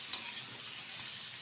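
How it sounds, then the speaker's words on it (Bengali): Ivy gourd and potato pieces fry in a pan as they are turned. A soft, steady sizzle lasts the whole stretch, with a brief utensil knock at the start and another at the end. "এখন একটু বেশ কিছুক্ষণ নাড়াচাড়া করে কুঁদরি আলুটা ভেজে নেব"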